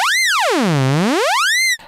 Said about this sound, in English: So the first thing we're listening to is the LFO.